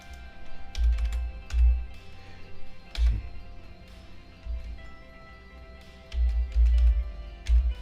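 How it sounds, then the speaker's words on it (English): Typing on a computer keyboard: bursts of quick, close key clicks and clacks in irregular clusters with short pauses between them, loud and clear with no voices. "let me type it in here."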